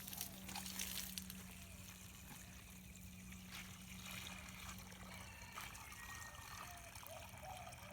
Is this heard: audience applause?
no